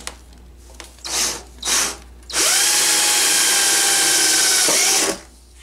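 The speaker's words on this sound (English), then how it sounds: "drill the hole in the sheet metal" A power drill whirs in two brief bursts, then runs steadily for a few seconds as it bores through the sheet metal of a Harbor Freight Dual MIG 131 welder before stopping.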